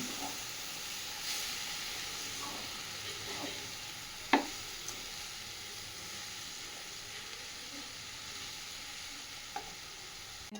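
Sesame and coconut laddu mixture being stirred in a pan: a steady soft hiss and scraping texture runs throughout, broken by a sharp utensil knock near the middle and a few faint clicks, with no talking.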